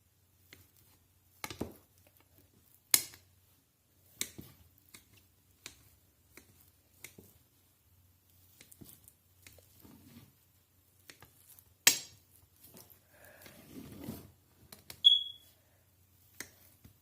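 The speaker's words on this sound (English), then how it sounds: "Dhokla is ready. Cut into pieces." Knife cutting soft steamed rava (sooji) dhokla into pieces, a sparse series of quiet, sharp taps and clicks against a tray with gaps between cuts, otherwise near silence.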